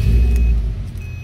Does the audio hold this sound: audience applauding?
no